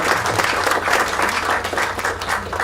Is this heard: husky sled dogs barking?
no